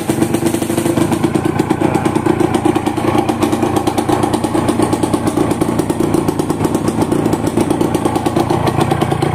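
Close, loud two-stroke Yamaha TZM motorcycle engine running continuously with a fast buzzing, rattling pulse, steady throughout without speech.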